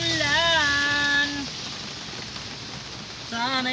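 Steady rain hisses continuously in the background while a voice sings a sustained melody, pausing in the middle before resuming.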